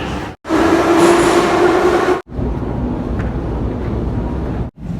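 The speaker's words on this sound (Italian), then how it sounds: "Gli ingressi delle metro di Kiev hanno tutti questo fantastico rumore." A metro train roars loudly near a Kyiv subway entrance with a rumbling, rushing drone and faint wheel squeal, the noise continuing steadily for several seconds.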